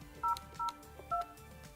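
Three short touch-tone beeps from a Yealink phone keypad, evenly spaced and clean, each a brief two-note tone over a faint quiet background.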